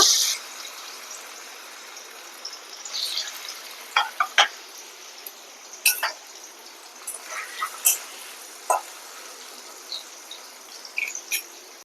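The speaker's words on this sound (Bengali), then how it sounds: "তেল গরম হয়ে গেছে এবার আমি এই তেলে পনিরগুলোকে প্রথমে ভেজে নেব" Turmeric- and salt-coated paneer pieces frying in hot oil in a pan: a steady faint sizzle broken by irregular sharp crackles and pops, close by, with no talking.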